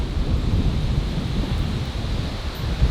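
Strong wind roars at a waterfall beside Lake Superior, a loud, steady low rumble and buffeting against the microphone with the water's rush blended underneath, no talk.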